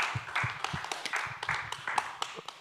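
A room of attendees at a business panel talk gives a quick, fairly faint round of scattered clapping for the panelists, individual claps audible as an uneven patter.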